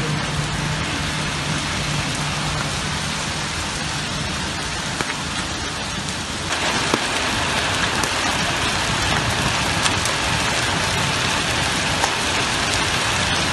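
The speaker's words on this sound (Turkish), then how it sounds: "Bardaktan boşalırcasına yağan sağanak yerini zaman zaman dolu yağışına bıraktı." A heavy downpour mixed with hail pounds down on cars and roads. It makes a loud, dense, unbroken hiss of drumming impacts with no break throughout.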